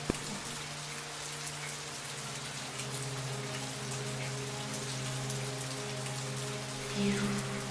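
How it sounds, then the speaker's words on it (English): Steady rain from the game Fatal Frame 3 patters continuously under a low sustained ambient drone, an even wash of dense droplets with a slight swell near the end and no voices. "Yep, still raining."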